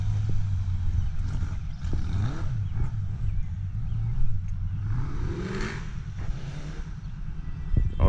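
An ATV fitted with a Kawasaki GPZ550 engine revs unevenly while drifting in grass, its clutch slipping, giving a moderately distant, rising-and-falling engine drone with some clatter.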